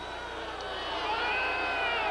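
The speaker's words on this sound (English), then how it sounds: "The crowd is booing." A gymnastics arena crowd at the 1987 NCAA Women's Gymnastics Championships boos in a broad, sustained wash of voices that swells slightly louder over a couple of seconds.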